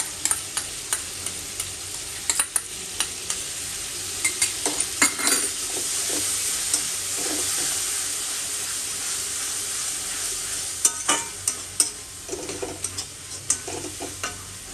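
Spice masala cooked down in oil with a few spoonfuls of yogurt for a potol and shrimp dish, sizzling steadily while a spatula scrapes and taps the pan in frequent sharp, irregular strokes.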